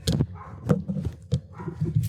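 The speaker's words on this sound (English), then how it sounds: "Yeah, there's dogs and construction." Several dogs bark in sharp, repeated bursts, fairly close and loud, with whimpers and yips between the barks against a chaotic background.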